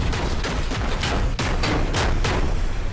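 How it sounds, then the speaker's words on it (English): Infantry gunfire in the video game Battlefield 6: rapid, continuous bursts of close shots and rattling automatic fire with booming impacts, dense and loud with no talk. "The infantry layer, where teams exchange gunfire on foot."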